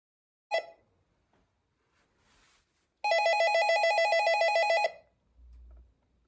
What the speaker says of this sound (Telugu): అలా వాళ్ళు అక్కడ బయట ప్రెస్ చేయగానే మనకి ఇలా రింగ్ అవుతుంది ఈ ఫోన్లో